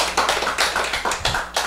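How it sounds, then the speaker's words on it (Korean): A small lecture-hall audience gives thin, sparse applause, a handful of claps in an uneven rhythm, fairly close and without talk. "박수도 너무 적어요."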